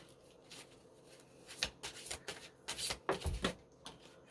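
Tarot cards being shuffled by hand, a run of soft riffling flutters and papery slaps in quick uneven bursts, close and fairly quiet, with no talking.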